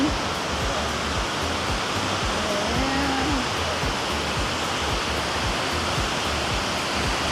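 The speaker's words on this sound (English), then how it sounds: "Look at the beautiful waterfall." A steady, broadband roar of a waterfall in San Antonio fills the scene, continuous and loud, with faint voices briefly audible beneath the rushing water.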